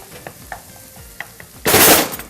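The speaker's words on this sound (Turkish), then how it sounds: "Şöyle biberler de ilave yaptık. Beraber biberler de bir kavrulsun." Bell peppers and onions sauté in a hot pan, with faint stirring taps and light sizzling that swells into a loud burst of frying toward the end.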